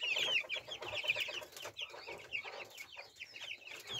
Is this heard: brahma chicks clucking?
yes